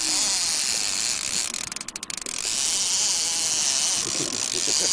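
A fishing reel's drag clicks as a king salmon pulls line, a fast ratcheting buzz running under wind and water noise, with a brief burst of distinct rapid clicks midway, close and fairly loud.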